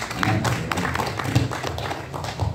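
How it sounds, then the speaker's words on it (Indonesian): Applause and hand clapping from an audience at an Indonesian discussion event on archaeology, a steady dense patter of many claps with scattered louder taps, fairly close and continuous throughout. "tepuk tangan malah loh"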